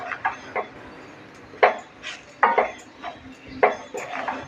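Jowar flour for ukadpendi, with chilli and red chilli powder, being stirred and roasted in a pan: scattered scrapes and knocks of a spoon against the metal, close and fairly loud, in irregular bursts with quiet gaps.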